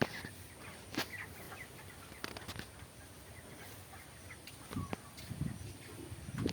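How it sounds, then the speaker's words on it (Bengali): Broiler chickens in a poultry farm, a faint busy chorus of clucks and short calls from many birds at moderate distance, irregular and overlapping, with no talk. "পোলট্রি ফার্মের সব মুরগি"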